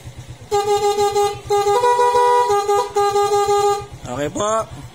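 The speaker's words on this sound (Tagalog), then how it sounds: "Busina po tayo." A 2019 Yamaha Smash 115 motorcycle horn honks in several short and long bursts, loud and close, over a steady idling engine, followed by a brief voice.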